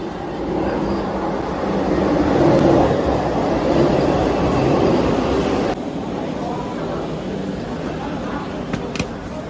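The Vande Bharat Express rumbles loudly and steadily as it pulls into a station, with a broad mechanical roar and voices murmuring in the background.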